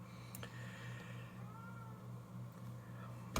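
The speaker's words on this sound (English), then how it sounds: "my daughter's cat is in heat, and it's got an appointment this next week to go get fixed, and it's being really loud" A female cat in heat meows indoors in a drawn-out, wavering call, fairly faint and set against low background hum and a little speech.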